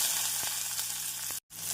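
Chopped onions hit hot oil in a pan already crackling with mustard seeds, urad dal and cumin, making a steady close sizzle with brief stirring clicks and a short gap near the end.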